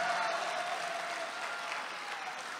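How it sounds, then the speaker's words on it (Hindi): Applause from a mushaira audience welcoming poet Popular Meeruthi, a steady, fairly faint wash of many hands clapping throughout. "पॉपुलर मेरठी साहब का स्वागत करिए जोरदार तालियों के साथ।"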